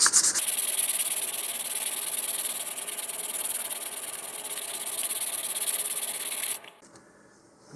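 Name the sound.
sanding model rocket part with sandpaper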